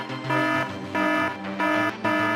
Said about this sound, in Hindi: ये अलार्म कैसे बजा?